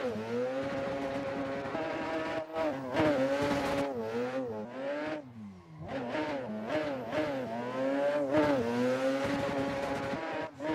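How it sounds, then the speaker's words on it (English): A rotary racing car engine in a racing video game revs hard and shifts repeatedly, with sharp popping backfire bangs scattered through the high-pitched whine, loud and close throughout. "just listen to the rotary bangs"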